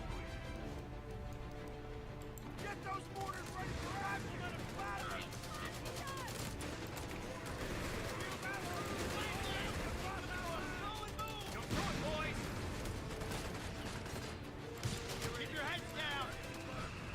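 Battle din from a Total War game with Cathay and Kislev forces: dense, continuous gunfire and rattling shots layered over a busy mix of clashing effects, steady and loud throughout, with a voice talking over it at times.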